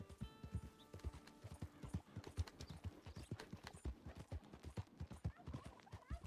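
Horse hooves clip-clop at a steady walking rhythm in the video game Red Dead Redemption 2, close and distinct, with brief game sounds layered over the opening.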